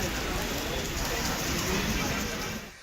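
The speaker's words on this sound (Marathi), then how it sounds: "पुण्यामध्ये अचानक दुपारी पाऊस आल्याचं आपण बघितलं" Steady, dense hiss of sudden afternoon rain over Pune, continuous and close for nearly three seconds before it fades slightly at the end.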